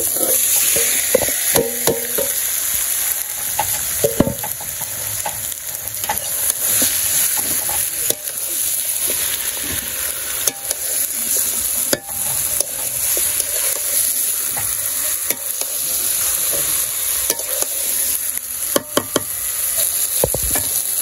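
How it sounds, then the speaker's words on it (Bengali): Meat fries in a pan in a village kitchen as it is cooked for polao and meat, a continuous loud sizzle broken by frequent scraping and clattering stirs of a spoon against the pan, close by, with no talking. "মাংস দিয়ে দিই।"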